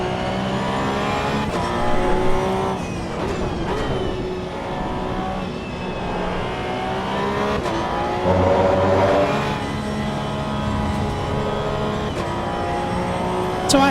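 A race car engine in Assetto Corsa EVO, racing at Spa, is held at high revs in third gear, a loud steady harmonic drone with slight rises and dips and no shift, close to the cockpit.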